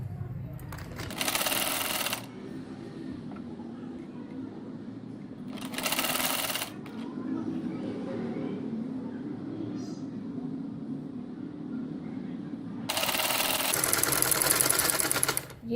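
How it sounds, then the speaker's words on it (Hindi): A sewing machine hums and stitches in three separate runs as a sleeve is sewn onto a shirt for a peplum top. The last run is the longest, and someone talks in the pauses between runs. "अब ये मैं बाजू की सिलाई कर रही हूँ शर्ट के साथ"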